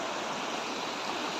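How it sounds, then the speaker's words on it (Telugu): Floodwater rushing hard after Cyclone Montha, a steady, dense roar of fast-moving water that stays close and loud throughout with no talk over it. "చూడండి ఎంతలాగా వెళ్తున్నాయో నీళ్ళు."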